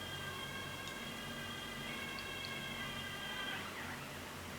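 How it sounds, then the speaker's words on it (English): Steady emergency sirens wail through a constant background hiss, staying at an even, moderate level the whole time, with no talking. "real strange sirens"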